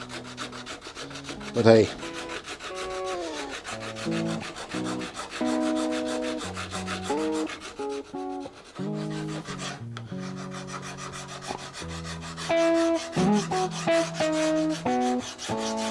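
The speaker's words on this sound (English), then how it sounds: "I still have to sand in the radius" Abrasive paper rubs back and forth over a wooden guitar fretboard as its radius is sanded, in repeated close scraping strokes set under ongoing musical tones, and a voice briefly speaks.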